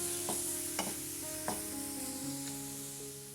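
Spices and garam masala stirred and frying over a low flame for chana dal tadka, a soft steady sizzle with a few scraping stir strokes from a utensil against the pan.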